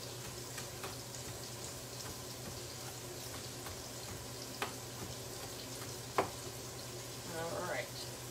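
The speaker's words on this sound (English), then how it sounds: "So we're sauteing our onion over medium heat for about 3 or 4 minutes." Chopped onion sautéing in a pan over medium heat, a steady soft sizzle with a few clinks of a utensil and some stirring, close and quiet, under a bit of talk.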